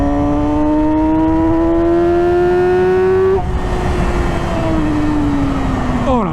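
A 2009 Yamaha YZF-R6 sport motorcycle screams past 10,000 rpm, its loud, close engine note climbing steadily before a gear change drops the pitch and it winds up again.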